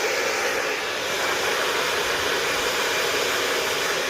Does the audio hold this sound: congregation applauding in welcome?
no